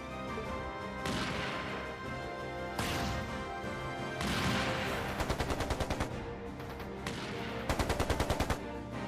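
Gunfire in the Trails into Reverie battle, with repeated loud bursts of rapid shots alternating with heavier single blasts and impacts across the scene, and no one talking.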